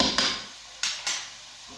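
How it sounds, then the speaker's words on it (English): Spoon knocking and scraping against a cooking pot while stirring tomato pasta sauce made with liquid vegetable stock, a few close, distinct clinks spaced irregularly over a quiet background. "I'm giving it a good stir."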